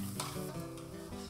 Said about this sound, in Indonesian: Adonan amplang yang sudah diiris ini langsung dapat digoreng hingga mengembang.